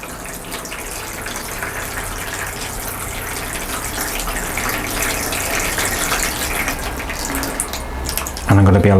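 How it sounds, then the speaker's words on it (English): Water gushes steadily from a tap into a seed tray for sowing cosmos and calendula, a continuous close, moderately loud splashing stream that ends with a sudden louder thump. "So I'm just going to fill this up with water."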